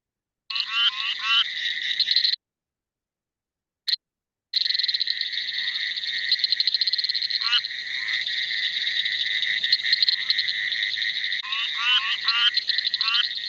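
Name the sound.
frog calls, frog with bilobate vocal sac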